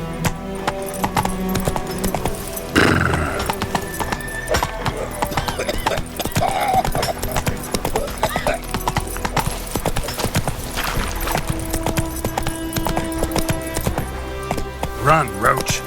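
Roach the horse gallops in The Witcher 3 with loud, rapid clip-clop hoofbeats running steadily throughout, plus an occasional whinny, while a voice talks over the game sound.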